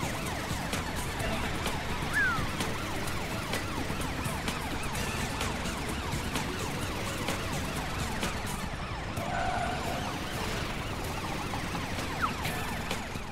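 A police car siren in a German cartoon set in Autopolis, wailing continuously at moderate loudness over a busy animated street scene with engine and traffic sounds, no talking.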